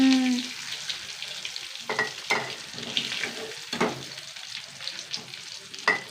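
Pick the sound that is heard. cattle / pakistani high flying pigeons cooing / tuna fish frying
tuna fish frying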